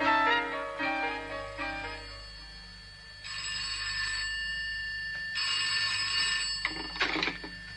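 Telephone bell rings in a film setting, with repeated bursts of bright trilling: several short rings at first, then longer rings with pauses between them, ending in a few sharper clatters.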